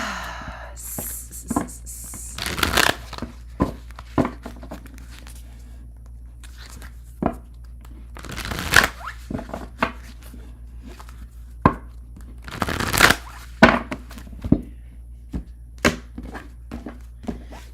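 Tarot cards are shuffled in short bursts, giving soft riffling, tapping and thumping sounds at irregular intervals against a quiet room, with a longer riffle near the start.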